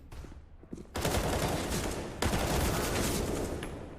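Gunfire from a P2K pistol in Counter-Strike: Global Offensive during a pro DreamHack Masters match: a few scattered shots, then two sustained, loud bursts of overlapping fire that fill the whole stretch.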